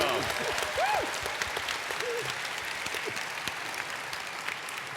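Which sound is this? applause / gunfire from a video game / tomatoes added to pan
applause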